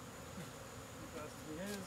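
Honey bees buzz during a September hive inspection as a frame is handled, a faint steady insect hum with a few close passing buzzes.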